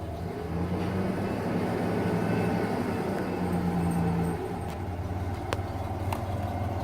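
A 1994 Ford Ranger pickup engine revved under throttle, a dense low rumble rising and holding steady before easing back slightly, close and loud with faint clicks near the end and no talking.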